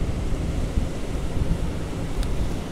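Ocean surf breaking on a beach at Port Aransas, Texas, a continuous loud rumbling wash with wind buffeting the microphone, close and steady with no voices.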